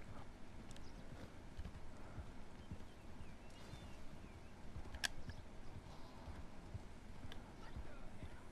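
Horse hooves clip-clop steadily at a walking pace in Red Dead Redemption 2, a soft repeating rhythm under a busy game ambience with a sharp click partway through.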